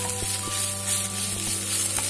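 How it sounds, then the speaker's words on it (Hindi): Fenugreek leaves fry in a pan with a dense, even sizzle that hisses on without a break, broken by a few faint ticks of a utensil, close and fairly loud with no talking. "ये देखिए हमारी मेथी भी भुनना शुरू हो चुकी है। यहाँ पे इसको थोड़ा सा और फ्राई करेंगे अच्छे से।"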